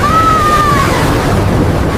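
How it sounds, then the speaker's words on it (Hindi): Large flood waves crash against a small boat carrying villagers, a loud continuous roaring wash of water with a brief thin whistle-like tone at the start. "एक और बहुत बड़ी लहर आ रही है, सब लोग मजबूती से पकड़ लो।"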